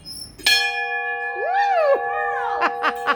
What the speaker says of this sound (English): Go ring the bell, Sally.